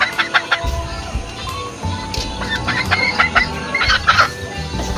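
A four-month-old young gamecock stag in a backyard clucks in short, repeated calls, close by, with other chickens and faint background sounds around it.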